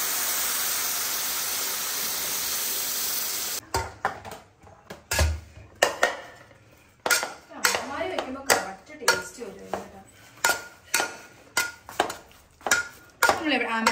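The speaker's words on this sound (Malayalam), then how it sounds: "കുറച്ച് പെരിഞ്ചീരകം വറുത്ത് പൊടിച്ചത് നന്നായിട്ട് ഇപ്പൊ ഞാൻ വഴറ്റിക്കൊണ്ടിരിക്കുകയാണ്" Groundnut curry with roasted fennel powder is sautéed in a pan, opening with a steady frying hiss that gives way to a series of close, repeated clinks and scrapes of a utensil against the pan.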